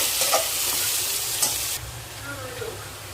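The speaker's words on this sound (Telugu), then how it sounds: "అట్లనే పచ్చిమిర్చి, ఉల్లిపాయలు అయితే కొంచెం దూరగా వేయించుకోవాలి" Onions and green chillies frying in a pan give a steady, close sizzle with stirring throughout, easing slightly partway through.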